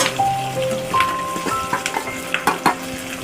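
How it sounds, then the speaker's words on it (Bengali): Capsicum and onion frying in a pan for chili chicken, a close steady sizzle broken by repeated scraping stirs and light clinks of a utensil against the pan. "এখন ক্যাপসিকাম আর পেঁয়াজটাকে লাল লাল করে একটু ভেজে নিচ্ছি।"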